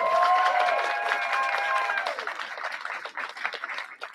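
Wedding reception guests break into applause that starts loud and gradually thins out. Clapping carries under a sustained voice or music tone early on, then continues more scattered toward the end.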